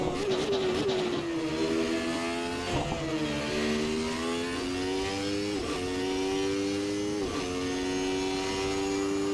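A McLaren MP4/8 Formula One car engine in the Assetto Corsa racing game screams at high revs, dipping and climbing through several gear changes in a continuous, loud run with no voices.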